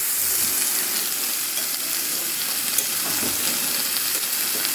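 Cumin, ginger, green chilli and ground coriander sauté in a pan with fried potato and cauliflower, a steady loud hissing sizzle with faint stirring, continuous and close, with no speech.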